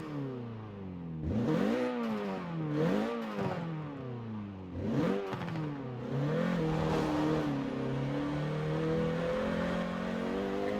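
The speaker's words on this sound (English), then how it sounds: "Gotta say, I definitely dig the way this car sounds." Renault Megane R26.R engine revving from the interior in Forza Horizon 4, several rising and falling rev sweeps with a raspy harmonic tone, then settling into a steady elevated drone, close and alone without talk.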